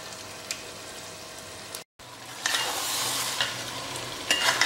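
Mutton meat hits hot ghee masala in a royal-style curry pot, and a steady, close sizzle swells louder, with scraping stirs and a brief drop-out partway through.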